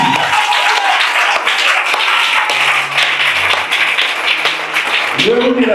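A church congregation applauds to acclaim Jesus, a dense continuous wash of clapping that fills the space at a steady loud level, with voices and shouts mixed in throughout.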